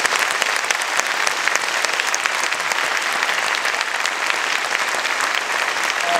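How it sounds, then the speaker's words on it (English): A concert audience at a wind ensemble's spring concert applauds loudly and continuously, the many claps blending into a thick, even roar. "just can we give them another round of applause,"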